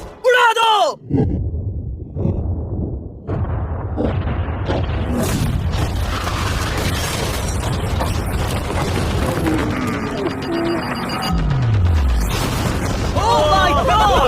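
A yacht blown up by an explosion: a heavy boom breaks in after a second, then a loud, sustained roaring rumble with further blasts, while voices shout over the din.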